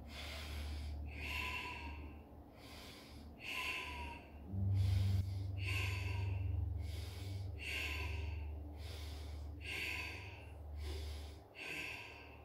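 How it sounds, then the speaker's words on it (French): Rapid bhastrika yoga breathing pumps in a steady rhythm like a forge bellows, with about eight forceful, evenly spaced nasal bursts close to the mic over a low background hum. "Si je fais cette respiration de façon rapide, elle rappelle le soufflet de forge. On l'appelle bastrika en sanskrit."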